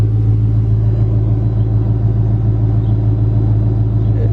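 A Dodge Charger R/T with a 5.7 engine, fitted with a 6.1 SRT intake manifold, idles with a steady, loud low rumble that holds even throughout, nearby and without talk.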